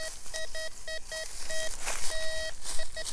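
A TX850 metal detector, swept during an outdoor hunt, sounds a string of short electronic beeps and then a longer sustained tone. The steady pitched signal stands over a rustling background.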